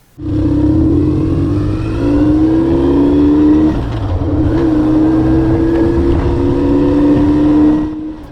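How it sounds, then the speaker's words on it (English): A BMW R1150R motorcycle rides along countryside roads, its engine droning loud and steady throughout, with gear changes and rising and falling revs as it cruises at a casual pace. "going out to the garage and firing up the motorcycle, and going for a casual ride"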